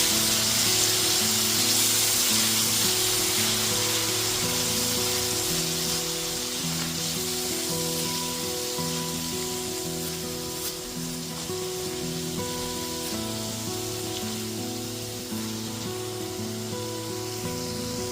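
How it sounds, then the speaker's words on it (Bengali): Tomato paste is stirred into a sizzling pan over a low-medium gas flame, a steady close hiss and sizzle that carries on for the whole stretch, with a faint tonal hum running beneath it. "গ্যাসের ফ্লেমটা লো টু মিডিয়ামে রেখে টমেটোটা দিয়েও খুব ভালো মতো একটুখানি মিশিয়ে নিচ্ছি"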